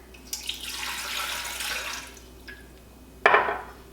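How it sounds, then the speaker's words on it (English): Water poured into the steel bowl of an Ankarsrum stand mixer for bread dough, a steady splashing pour that fades, then a brief bright splash near the end. "So I'm gonna go ahead and add my water."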